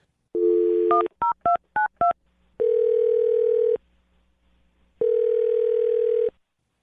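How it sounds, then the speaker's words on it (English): A phone number is dialed: a held tone, then five quick keypad beeps in a row, followed by two long ringback tones with a pause between them, clear and close with no talking. "I'm going to dial her phone number right now."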